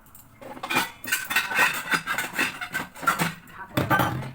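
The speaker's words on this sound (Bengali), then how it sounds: "মশলা টমেটো আদা রসুন আর পেঁয়াজ এই কটা কাটবো" Tomato, ginger, garlic and onion being cut with a knife, a quick run of repeated clattery chopping knocks, close and fairly loud, with a short pause before a final burst.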